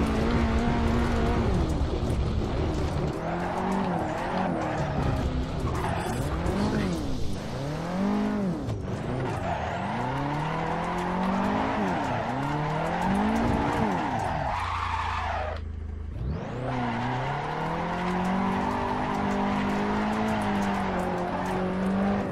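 A drift car in the Assetto Corsa racing game slides with long, loud tire squeals that rise and fall over revving engine tones, with a brief dip in the squeal near the end.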